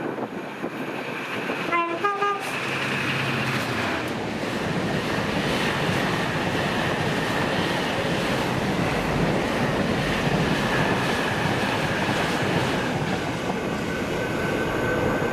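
A DRS freight train, locomotive 66301, passes Monifeith with a short two-tone horn blast near the start, then a long steady rumble of wagons rolling by at close range.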